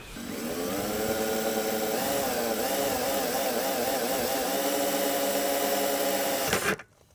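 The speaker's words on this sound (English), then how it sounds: "flip it over, and drill everything out" A power drill drilling bolt holes runs steadily at high speed with a sustained whine, the pitch wavering slightly under load, then cuts off abruptly near the end.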